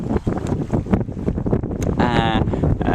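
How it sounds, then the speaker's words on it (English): Strong gusting wind at Tynemouth Pier on the North Sea coast buffets the microphone in loud rumbling bursts, with a person talking throughout. "as you can hear, it's pretty blowy"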